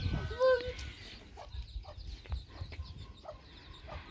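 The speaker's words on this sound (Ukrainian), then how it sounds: "Ось така бентамочка, вивела курчат." A bantam hen with chicks clucks softly in short, scattered calls, close by, with a brief louder squawk at the start and faint chick peeps around.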